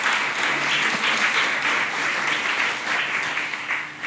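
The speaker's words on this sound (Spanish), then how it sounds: "Si le va a aplaudir, apláudele al Señor, hermano." A church congregation applauds the Lord in one dense, sustained wash of clapping that fills the room and holds steady from start to finish, with only faint voices underneath.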